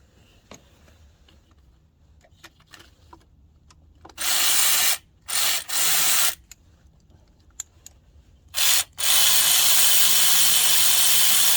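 A powered ratchet wrench cranks down a bolt while an oil leak near the starter of a 7.3 engine is repaired. It gives several short, loud whirring bursts and then a longer sustained run, with faint clinks in between.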